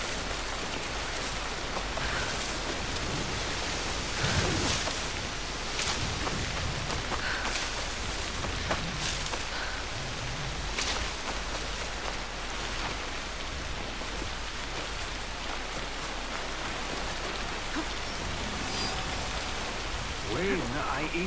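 Heavy rain falls in Assassin's Creed Shadows on PS5, a constant broad hiss running throughout, with a few low thuds and brief brighter accents rising out of the downpour.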